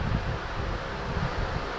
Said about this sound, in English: sorry for the noise. I got the fan going because it's hot as shit.